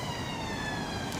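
An emergency vehicle siren wails in a steady, sustained tone, fairly loud and continuous, with no voices over it.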